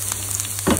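Onions, garlic and green chillies go into hot oil in a pan over low heat, giving a close, steady sizzle with a brief louder burst of crackle near the end of a very short moment.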